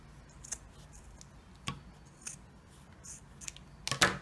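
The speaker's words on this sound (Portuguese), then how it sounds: "eu vou poder cortar mais ou menos um dedo desse tecido" Scissors cut through fabric in a few sharp, separate snips, quiet and close, with a louder cluster of cuts at the end and no talking.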